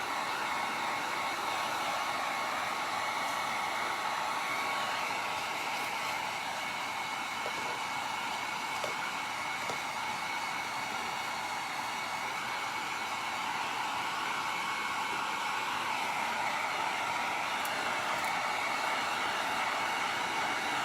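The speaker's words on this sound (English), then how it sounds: "Trying to keep my heat gun moving so that it doesn't get too hot and bubble my paint" A heat gun dries paint on a Dollar Tree sign, giving a steady, loud airy roar that runs unbroken throughout with no talk.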